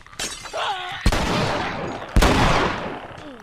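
Gunfire in The Last of Us, two loud, sharp shots each followed by a long echoing decay, with brief speech-like chatter between them.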